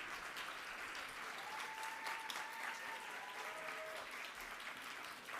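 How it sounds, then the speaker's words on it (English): Quiet, distant applause at a multicultural graduation celebration for family, friends, staff and faculty, a continuous soft patter of many hands with faint voices mixed in. "Please give them a round of applause."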